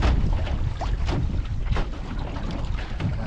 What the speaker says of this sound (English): Got the wind now that we're around the point.